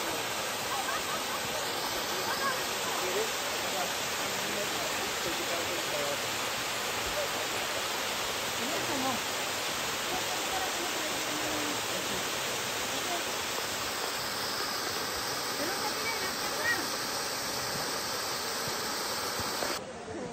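A stream flows steadily at Hole in the Wall near Port Alberni, making a broad, continuous rushing wash that fills the whole span at constant loudness, with no clear voices above it.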